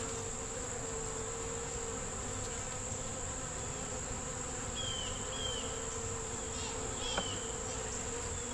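Honey bees hum around an open hive being worked, a steady, even drone filling the background with a few brief louder passes near the end, no talking.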